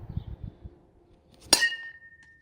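One crisp metallic ping rings out as a metal bat hits a plastic wiffle ball, a lone close strike with a brief ringing decay after quiet low rustling.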